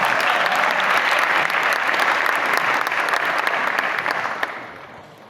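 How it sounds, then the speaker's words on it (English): A conference audience at the closing of the Innovate 4 Cities event at UN-Habitat headquarters gives a round of applause; a thick, sustained wash of clapping holds steady, then tapers off in the last second. "Give a round of applause."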